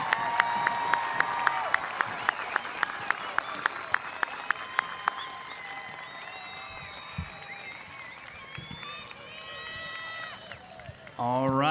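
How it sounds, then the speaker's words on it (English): An audience claps for eighth graders at a middle school promotion ceremony, a dense crowd applause with scattered cheers in a large hall, loud at first and gradually thinning out. "Let's give them all a round of applause."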